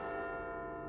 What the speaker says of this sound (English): the bells around Big Ben